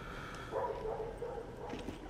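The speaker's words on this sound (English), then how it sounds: "And the dog barks." A dog barks and whines faintly in The Walking Dead: Saints & Sinners VR game, short muffled yips over a low ambient background with no talk.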